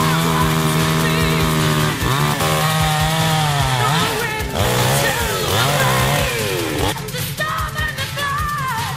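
A Lidl chainsaw engine roars loudly and steadily, its pitch revving up and down repeatedly throughout, with no voices.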